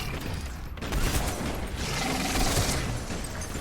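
Shotgun reloading in the Mass Effect 3 video game, a run of quick mechanical clicks and clacks over a steady dense game background, with no break in the noise.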